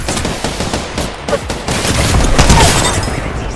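Rapid automatic gunfire in the shooter game Apex Legends, loud, dense bursts of shots close up, running without a break across the short stretch.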